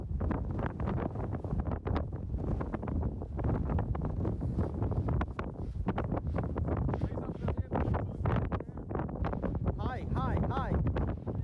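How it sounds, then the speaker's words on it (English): Strong gusty wind buffets the microphone in a loud, continuous rumble that rises and falls outdoors, with voices faintly mixed in underneath. "Yeah, this wind is weird. Yeah, it's like blowing off. All direction."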